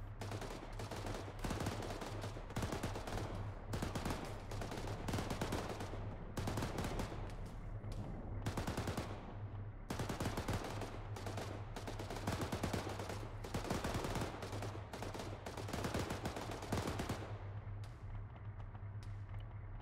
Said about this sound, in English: I think we're getting shot at from the south.